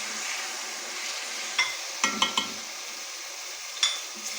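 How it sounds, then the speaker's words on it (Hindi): Chicken frying lightly in a pan with garlic, a steady soft sizzle broken by a few light metallic clinks and stirring scrapes, close and quiet with no talk. "चिकन को लाइट सा फ्राई करना है"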